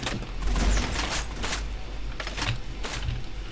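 Gunfire and bombs dropped from the air in the video game Arsenal, a dense run of bursts and booms with a heavy low rumble near the start, then repeated sharp blasts over continuous battle noise.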